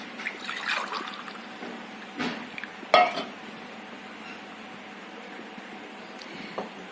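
Soft trickling of water into a glass with a few light clinks of glassware, fairly close, in a quiet room with no talking.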